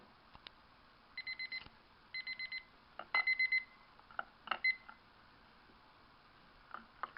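A kitchen timer marking the end of egg-boiling time rings in short bursts of rapid electronic beeps, repeated in several groups and fairly faint, with a few clicks between them.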